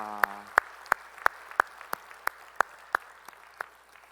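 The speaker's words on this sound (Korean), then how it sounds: "우리 찬양을 받으시 주님께 영광의 박수 올리겠습니다." A church congregation at a Sunday worship service claps in steady unison, a dozen or so even, crisp beats evenly spaced, after a brief held tonal note at the start.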